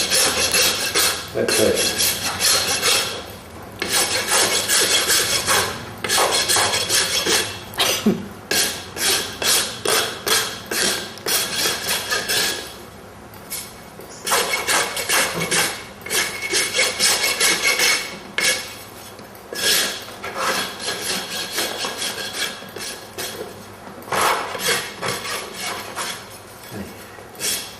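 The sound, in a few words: rasp filing a horse's hoof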